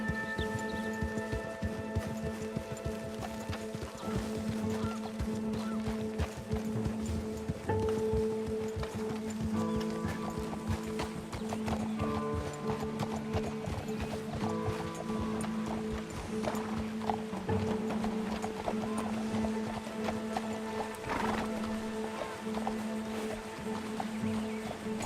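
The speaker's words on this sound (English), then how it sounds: "God, control your horse, Arthur." Horses in the Red Dead Redemption 2 video game clip-clop steadily with rhythmic hoofbeats, with occasional whinnies and snorts, over a faint game soundscape with music-like tones, close and continuous throughout.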